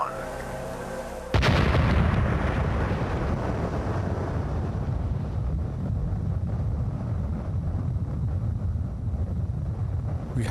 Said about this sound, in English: the countdown to the world's first atomic explosion began.